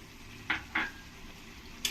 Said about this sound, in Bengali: এরপরে আমি আলু দিয়ে দেবো আলু যেগুলো ভেজে রেখেছিলাম এই আলু কটাকে দিয়ে দেবো